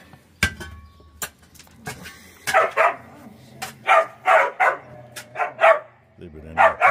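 Several puppies bark and yip in short sharp bursts, bunched repeatedly near the listener, with a few clinking knocks in between and a person speaking at times.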